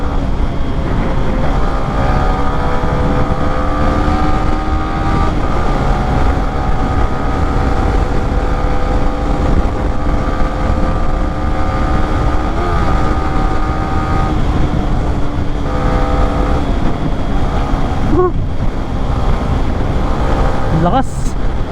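A 2023 Yamaha Sniper 155 motorcycle engine hums loudly and steadily while riding, its pitch rising and shifting through gear changes over constant wind rush, with a voice briefly heard.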